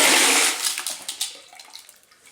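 A rotary rock tumbler barrel full of stones, ceramic media and 500-grit slurry is dumped out, starting with a loud close watery rush that fades into scattered splashes and trickles.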